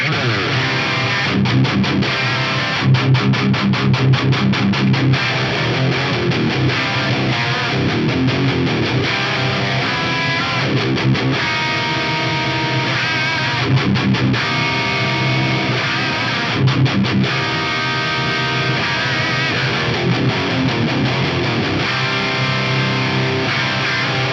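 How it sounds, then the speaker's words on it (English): Heavily distorted electric guitar through an Axe-Fx III amp modeler set to hard speaker breakup, playing chugging riffs and sustained chords, loud and dense with a gritty, saturated amp tone throughout. "Hard speaker breakup is sounding really, really great."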